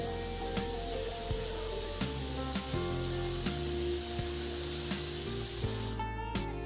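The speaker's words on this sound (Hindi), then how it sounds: "हेयर स्प्रे को शेक करना है और कम से कम 12 इंच की दूरी से आप लोगों को इसे अप्लाई करना है" A can of Nova hairspray is shaken and then sprayed from about a foot away. It gives one steady, loud aerosol hiss lasting around six seconds, then cuts off abruptly into near quiet.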